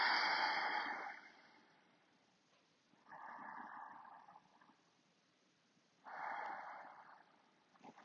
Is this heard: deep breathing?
yes